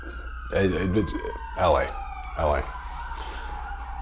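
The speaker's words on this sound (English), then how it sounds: "There's the sirens that I predicted" A distant police or emergency siren wails and rises in the background of an outdoor scene while someone speaks over it in short bursts.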